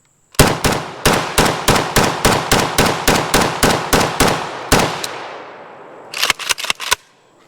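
AK-74M rifle firing modern 7N39 armor-piercing rounds: a fast run of about fifteen loud, sharply cracking shots with ringing echo, a single shot after a short gap, then a quick burst of several more.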